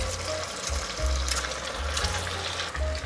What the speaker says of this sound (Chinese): 现在放入酥鳗鱼段进来炸